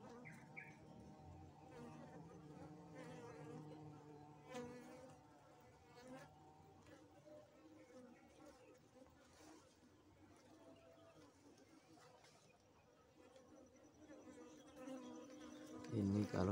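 Wasps buzz and drone steadily up close around a bee trap where they have begun building comb, with a few faint bird chirps and scattered clicks around them.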